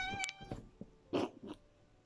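A pet cat meowing indoors, a few short, close meows and chirps with small rustling sounds in between.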